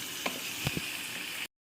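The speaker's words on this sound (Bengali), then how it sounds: "পেঁয়াজ ভাজা হচ্ছে লাল লাল করে ভাজতে হবে" Onions fry in a pan for meat curry, a quiet, even sizzle broken by a few soft stirring knocks before it cuts off abruptly.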